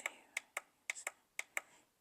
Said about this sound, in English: So we're clicking this button on the